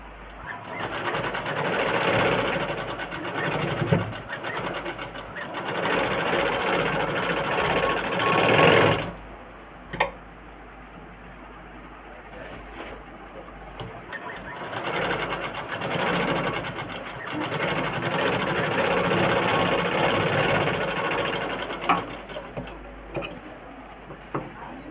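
A sewing machine stitches blouse cloth pieces together with a loud, continuous close-up whirring that stops briefly partway through, then resumes for a long second run.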